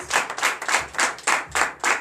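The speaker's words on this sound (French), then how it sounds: "Que je vous demande d'applaudir très fort." A church congregation clapping at a Sunday service in Comè, Benin, in about eight loud, evenly spaced rhythmic claps.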